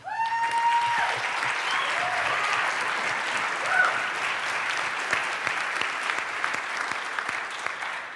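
Audience applause after a startup pitch at a subscription-business pitch competition, a sustained, moderately loud patter of many hands filling the room, with a brief whoop near the start and clapping continuing evenly to the end.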